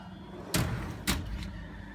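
A toolbox drawer in a mechanic's metric tool chest, holding wrenches from 11 up to 26 mm, slides twice in quick succession, each a short close rumbling slide, with no talk.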